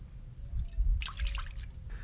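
Soy sauce poured into a vinegar marinade for grilled milkfish adobo, a soft close trickle and splash of liquid lasting about two seconds.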